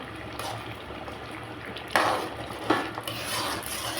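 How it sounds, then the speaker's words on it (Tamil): Chicken being stirred into gravy in a pan, a steady wet scraping and sloshing with a couple of louder clanks of the spoon against the pan. "சிக்கன் போட்டு மிக்ஸ் பண்ணிடுவோம்"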